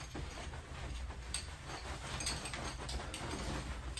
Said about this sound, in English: Sorry if you could hear the fan in the background.